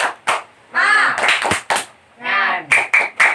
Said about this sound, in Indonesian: Ibu mau salah satu memimpin tepuk semangat.